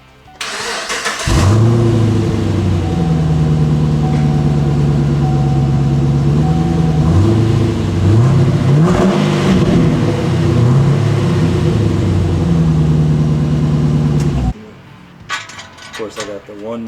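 A Chevrolet Caprice with a 6.0 engine and muffler-delete exhaust roars loudly and steadily, rising and falling through several revs for about thirteen seconds before cutting off abruptly.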